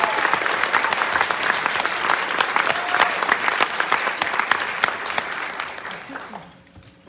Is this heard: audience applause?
yes